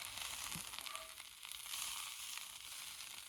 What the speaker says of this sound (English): I'm gonna get this butter down in this cast iron right there. Oh yeah, real good and hot.